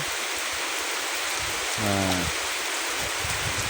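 Steady rain hisses over a river by the Sundarbans across the whole clip, with a brief low engine-like drone of a passing boat rising in the middle before fading back into the downpour.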